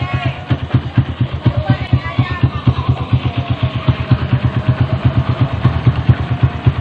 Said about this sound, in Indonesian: Untuk suara langsangnya lumayan adem, karena setelan juga saya standarkan dan geberannya juga nggak terlalu berisik.